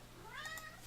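A cat meows faintly in the distance, one or two short rising calls over a steady background hiss.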